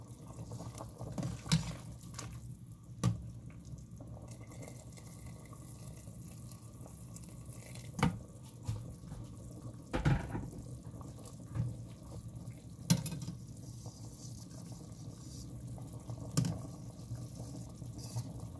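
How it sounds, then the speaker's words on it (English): Tap water runs into a soup pot for a sweet and sour pineapple soup, a low steady splashing pour that carries on throughout, with a few louder knocks and clatters breaking through. "So add water according to how loose your soup is or how much you want."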